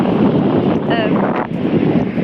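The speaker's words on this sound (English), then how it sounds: "it's very windy." Steady, heavy wind roar buffets the microphone throughout, loud and broadband, with a faint brief tone in the middle, recorded under a spray hood on a boat at sea.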